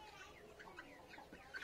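An Aseel hen gives soft, scattered clucks close by, a few short calls over a faint background in a poultry setting.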